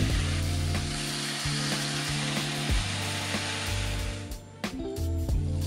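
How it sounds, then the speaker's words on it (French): Ham slices browning in a frying pan for Korean kimbap give a steady close sizzle, with intermittent tonal hum and clatter over it throughout. "Dorer les tranches de jambon."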